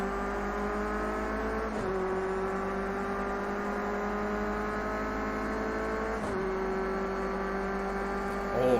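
A Renault Clio's engine in the racing game Project Cars 2 drones and revs steadily while overtaking, with two brief gear-change dips in the pitch and a constant loud whine throughout.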